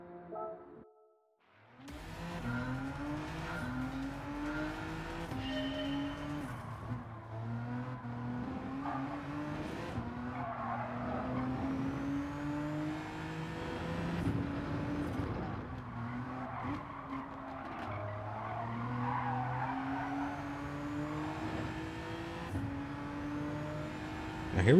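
Race car lapping a track in Gran Turismo 7, its engine droning and climbing through repeated gear shifts with braking dips and faint tire noise, steady and moderately loud throughout.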